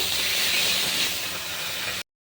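Mustard seeds, spices and leaves poured into a hot wok give a loud, steady sizzling hiss for about two seconds, then cut off abruptly.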